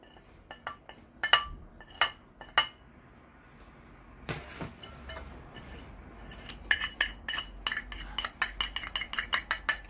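A spoon clinks and scrapes against a metal or glass bowl while spices are mixed into a potato and chicken cutlet mixture, with irregular sharp clinks early, a pause, then quick repeated rhythmic taps, close and clear.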